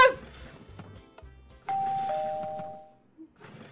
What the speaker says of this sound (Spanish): está tocando el timbre